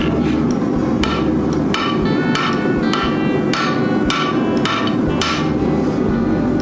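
Metal leaf being forged with a hammer, struck along both tapered sides: loud, close, ringing blows landing in an even rhythm of about one or two per second, with no speech.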